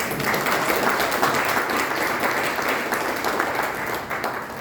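Audience applause at a book presentation honoring a teacher and linguist, sustained dense clapping from a room of people, steady and fairly loud throughout, slowly fading toward the end.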